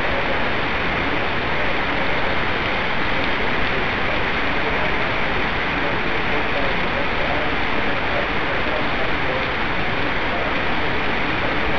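Steady, dense downpour of rain during a winter storm in Camoapa, Nicaragua, hissing continuously at an even, fairly loud level throughout, with no pauses or distinct drops standing out.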